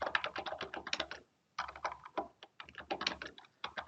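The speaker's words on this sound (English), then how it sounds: "I just type in dashboard for appointments" Typing on a computer keyboard, close and clear: two quick bursts of rapid clicking keystrokes separated by a short pause, with no talking.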